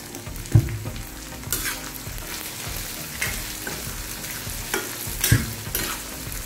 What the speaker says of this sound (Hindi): चलिए इसको फ्राई कर लेते हैं पहले